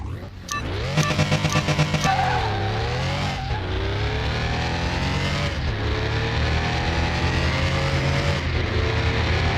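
Nissan GTR race car in Car Mechanic Simulator 2021 revs hard and accelerates through several gear changes, a loud sustained engine roar with rising and falling pitch, near and continuous, with no talk.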